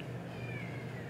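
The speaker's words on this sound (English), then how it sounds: "If you hear my cat meowing," A pet cat meows indoors, a soft, drawn-out cry with a slight rising and falling pitch, heard faint and somewhat distant against steady low room hum.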